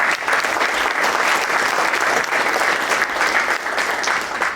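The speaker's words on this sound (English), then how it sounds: "Get a round of applause" An audience applauds committee members at a Kiwanis veteran essay contest ceremony, a steady, dense wash of clapping that stays loud and even for the whole stretch without a break.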